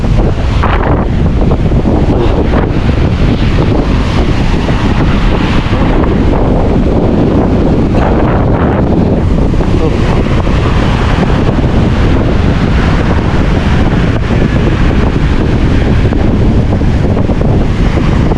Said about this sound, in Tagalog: Bumagyo na naman, bumagyo.